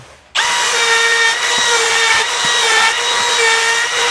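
A router with a spiral bit starts abruptly and whines steadily and loudly at close range while trimming the edge of a hard maple workpiece, with small ticks and bumps as the cut proceeds.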